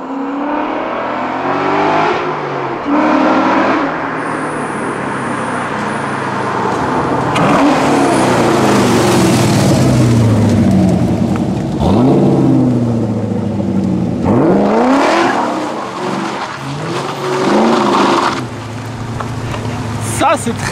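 A Chevrolet Corvette C6 V8 engine revs loudly and repeatedly, with deep rising and falling sweeps close by, while people talk over the engine noise.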